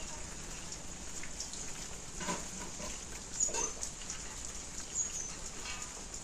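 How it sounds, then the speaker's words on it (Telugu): Steady soft patter of rain falling, with a few louder drips and taps scattered throughout, fairly distant. "చూసారు కదండి వర్షం ఎలా పడుతుందో"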